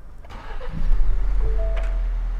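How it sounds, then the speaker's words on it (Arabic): A 2021 Ford Explorer with a four-cylinder engine cranks and catches, then settles into a loud, slightly raised idle with a steady low rumble, close by and with no talk. "طبعا سامعين صوت الأربع سندر، دائما يجي عالي شوي لكن يخف أول ما حرارة تجي على معدل الطبيعي"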